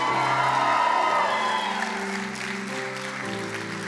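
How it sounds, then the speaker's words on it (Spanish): A church congregation shouts and cheers in victory at a worship service, a loud dense crowd roar that fades slightly toward the end, with sustained musical tones beneath. "dé un grito de victoria"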